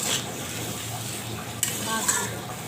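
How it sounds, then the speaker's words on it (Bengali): Vegetables being sautéed and stirred in a spiced curry base in a pan, a soft steady sizzle with a couple of light utensil clinks against the pan, no voices. "এখন তরকারি দিয়ে তরকারিগুলো ভালো করে কষিয়ে নিব।"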